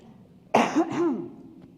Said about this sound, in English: I'm going to have to cough, excuse me.